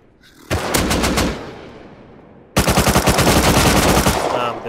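Bursts of AK rifle fire in the video game Rust: a short rapid volley, then a longer sustained automatic stream, loud and close, with ringing tails.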